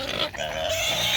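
Hungry pigs in flooded pens after a hurricane let out close, loud grunts and squeals in a brief, busy burst.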